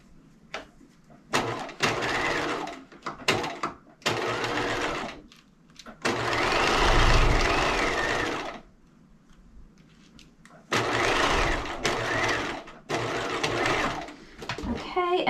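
A home sewing machine stitches a 2.5 by 2.5 zigzag seam in bursts: several short runs of rapid whirring and clattering, a longer steady run in the middle, separated by quiet pauses with small handling clicks.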